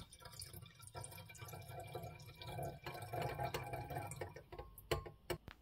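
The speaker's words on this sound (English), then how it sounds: "first we're going to add about 100 milliliters of water to a 250 milliliter" About 100 milliliters of water poured into a 250 milliliter two-neck round-bottom flask in a home chemistry setup, heard as a steady splashing trickle lasting several seconds, with a few sharp glassy clicks near the end and no talking.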